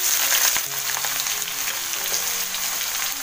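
Chopped onion hitting hot oil for chicken biryani gravy, a steady dense sizzle close up with a few clicks and stirring taps, continuous and loud throughout with no voices.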